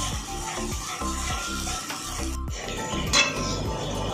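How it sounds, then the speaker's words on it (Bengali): A spoon stirs beaten yogurt in a pan for a doi begun jhal recipe, with steady rhythmic scraping strokes, a gentle sizzle underneath and a brief clink near the end. "দইটা কিন্তু খুব ভালো করে ফেটে নিতে হবে এইভাবে সমানে নাড়তে থাকতে হবে"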